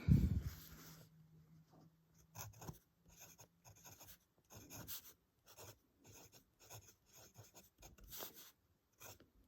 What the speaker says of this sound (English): let's see what the fine nib looks like here